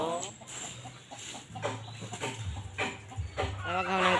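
Chicken clucking in a series of short, bright calls that grow louder near the end, over a low steady background hum and some nearby murmuring.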